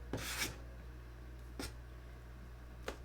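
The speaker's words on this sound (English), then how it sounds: "We'll do about 15 minutes of sanding" Wood sanded by hand with sandpaper gives three separate rasping strokes spaced about a second and a half apart. The first is the longest, and the strokes stand alone over a low steady hum.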